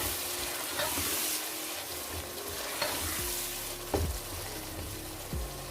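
A masala of salt, chili and turmeric sizzles steadily in a pan for a chicken and okra curry, with a spoon scraping and stirring it in a few distinct strokes and no talking.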